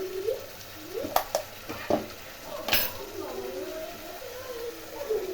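A paste of cumin, coriander, ginger and chilli for a Bengali-style fish dish is stirred in a pan, soft spatula scrapes and clinks over a faint sizzle, fairly quiet, with someone talking throughout.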